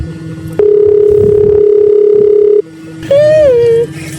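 A cellphone call in progress: a loud steady electronic tone holds for about two seconds, drops out, then a second wavering tone follows, with faint background voices and noise at the start.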